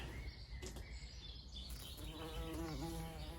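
Bees buzz steadily around calibrachoa flowers in a garden, a close, continuous insect drone with faint birdsong in the background.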